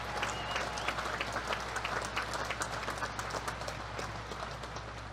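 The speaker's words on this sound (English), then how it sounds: "How about a round of applause for the Navy Band?" Graduation crowd applauding for the Naval Academy Band: faint, distant clapping from a large audience, steady and scattered, with no talk.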